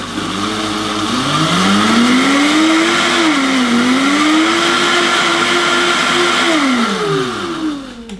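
Blender whirring as it mixes raw milk with cacao powder, a loud close motor that ramps up in pitch, holds a steady churning whine with slight wavering, then winds down near the end.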